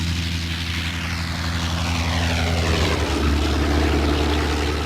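Early Avro 504 propeller biplane with its engine running, a loud, steady, close droning roar with a buzzing tone that shifts in pitch partway through, heard alone without talk.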